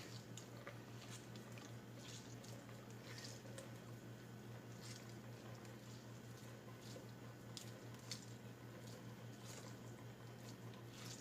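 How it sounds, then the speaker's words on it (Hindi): Grated bottle gourd is squeezed by hand to press out its water, giving soft, faint wet squishes and drips over a steady low hum. "ऐसे दबा दबा के निचोड़ लेंगे।"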